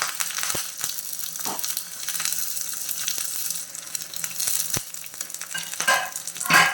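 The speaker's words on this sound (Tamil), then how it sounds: "எண்ணெய் சூடானது நம்ம கட் பண்ணி வச்சக்கூடிய சின்ன வெங்காயமும் கருவேப்பிலையும் அதை சேர்த்துடலாம்" Small shallots and curry leaves sizzling in hot oil in a pan while a cook makes ladies finger mappas, a steady fry hiss broken by sharp stirring clinks and scrapes.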